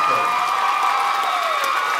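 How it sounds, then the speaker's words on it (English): Crowd at a hypnosis show at a bike-a-thon breaks into steady applause mixed with cheering and whoops, dense and loud for the full two seconds. "Give him a big round of applause."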